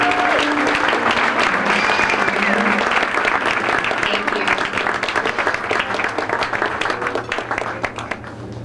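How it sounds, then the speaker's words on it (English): Sustained audience applause at a formal evening gala honoring gown designers and volunteers, dense clapping from a large crowd filling the room, loud and steady before gradually thinning toward the end. "a big round of applause"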